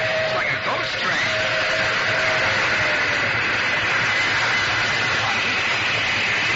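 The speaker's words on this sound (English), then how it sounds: "There's a train coming. It's an old steam train." A steady, broadband rumble of an old steam train passing in a video game, with a drawn-out whistle-like tone early on, loud and continuous throughout.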